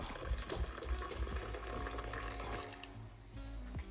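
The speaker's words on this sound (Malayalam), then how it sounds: "വെള്ളം ഒരു സൈഡിലിട്ട് ഒഴിക്കാം, മീനിൻ്റെ പുറത്തോട്ട് ഒഴിക്കണ്ട" Water poured into the side of a pan of fish curry splashes and gurgles faintly, a soft liquid pour fading after a few seconds.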